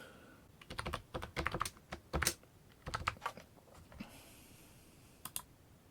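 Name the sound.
typing a password on a computer keyboard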